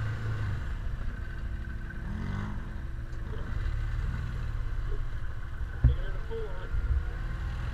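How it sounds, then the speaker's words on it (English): An ATV engine braking on a downhill ride across Newfoundland, a steady low drone with rumbling wind and riding noise, one sharp knock near the end, and voices talking over it. "Wow, the engine braking on this is amazing."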